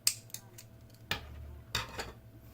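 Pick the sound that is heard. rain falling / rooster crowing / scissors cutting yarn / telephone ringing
scissors cutting yarn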